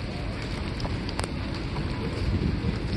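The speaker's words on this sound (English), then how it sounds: "off and on sprinkling right now" Light rain patters steadily outdoors at a swap meet at Texas Motor Speedway, a soft, constant hiss of drops with a few brief ticks and some wind noise.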